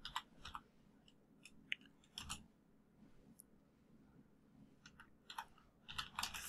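Light typing on a computer keyboard at a desk, scattered bursts of quiet key clicks with short pauses between them, fairly faint and with no voices.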